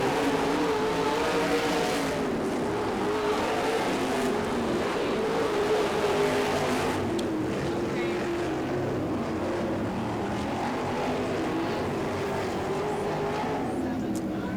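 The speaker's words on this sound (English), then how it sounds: "Half a lap to go for Berth to the checkered flag" Race cars roar around a track during a race finish, a loud continuous engine drone with rising and falling revs, while a voice talks over it.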